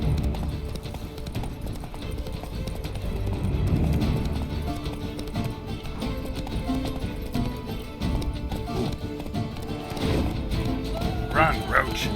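Roach, the horse in The Witcher 3, gallops with steady, rapid hoofbeats over continuous game music and ambience, the thudding rhythm running throughout and swelling in places.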